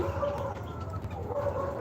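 Chickens kept for eggs, about 47 days old, cluck and call on a poultry farm, several birds close by in a steady murmur of clucking.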